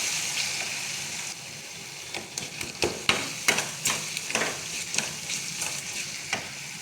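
A spatula stirs turmeric, red chilli and coriander powder into tomato masala frying in a pan for a field bean gravy, giving a quiet sizzle followed by a series of sharp scraping knocks against the pan.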